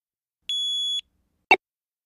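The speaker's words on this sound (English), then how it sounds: "Just then, they hear a loud beep." A loud electronic beep from a handheld game whose battery is dying: one sustained pure tone of about half a second, a brief gap, then a sharp short burst, all against silence.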